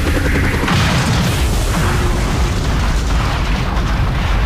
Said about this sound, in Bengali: নিমেষে ঘটল বিস্ফোরণ